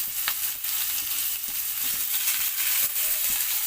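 Vegetables fry loudly and steadily in oil left over from frying fish, a close dense sizzle with occasional stirring clicks and no talk.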